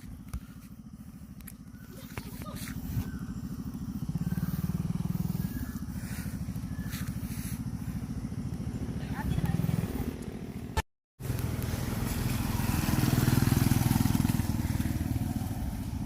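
A motorcycle ridden along a rough, potholed road, its engine droning steadily with rattles and jolts from the bumps, while people talk over it throughout.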